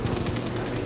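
Rapid gunfire from a World War II shooter game, Call of Duty WW2, in a Battle of the Bulge mission, rattles in a dense continuous burst lasting under a second.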